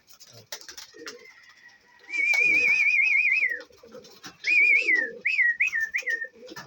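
Low, soft pigeon coos sound close by among fancier's pigeons, partly covered by louder warbling whistles and brief bursts of a voice.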